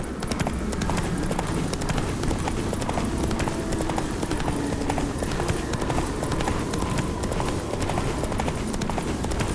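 Horse hooves in The Witcher 3 video game clip-clop in a fast, steady galloping rhythm throughout, loud and close, over a constant background of game ambience.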